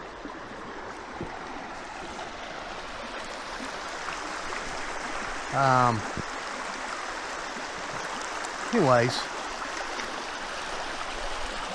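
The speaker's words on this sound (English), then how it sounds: "Little Duck River in the background." Little Duck River flows steadily in the background as a soft, constant outdoor wash. Two brief bird calls break in partway through, and a voice speaks a word near the end.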